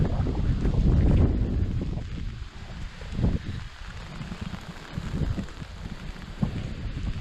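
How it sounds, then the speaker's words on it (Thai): Strong storm wind from Typhoon Kalmaegi roars and buffets against the microphone at the foot of the Phanom Dong Rak range in Surin, Thailand, a dense low rumble that surges and eases in gusts. "โอ้ลมแรง"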